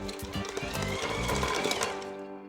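A mixer turning slowly through raspberry and chocolate brownie batter, producing a soft, rhythmic mechanical whir that holds steady for a couple of seconds before trailing off.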